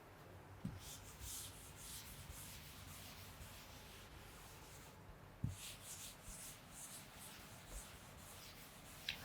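Chalk or a duster rubbing across a classroom board, a soft continuous scrubbing with a few light knocks, fairly faint and alone.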